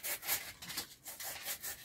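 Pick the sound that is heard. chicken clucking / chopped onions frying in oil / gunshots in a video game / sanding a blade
sanding a blade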